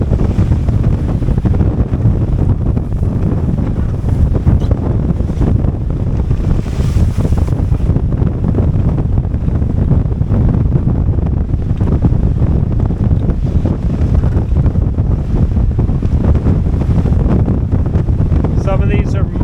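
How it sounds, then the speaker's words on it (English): Wind roars steadily over the open Atlantic around a small 21-foot home-built sailboat, with heavy seas of three to four metres surging and washing close by in a constant loud rush. "These seas are between 3 to 4 meters."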